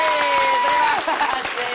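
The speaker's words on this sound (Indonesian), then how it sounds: "Sekali lagi kita kasih tepuk tangan buat Bang Opi, Bang Bolot, dan juga Narji" A studio audience at an Indonesian comedy show claps in a short, dense burst that fades as a voice speaks over it.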